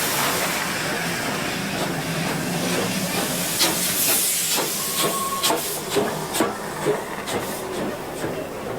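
Steady broad hiss from the Flying Scotsman steam locomotive at a station, with clanks and knocks rising toward the end, heard at moderate distance over light crowd ambience.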